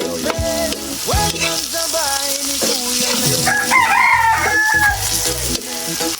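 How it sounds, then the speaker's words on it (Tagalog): Garlic and onion sauté in a hot pan with a steady, close sizzle and occasional stirring, while a rooster crows and other tonal calls sound in the background. "ginigisa na natin yung bawang sibuyas"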